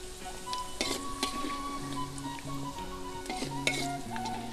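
Jengkol sizzling as it fries in hot oil, a continuous crackling hiss with occasional stirring clinks, set under a background music melody at moderate volume.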